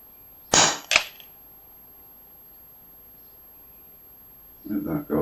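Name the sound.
FX Wildcat Mk.3 air rifle shot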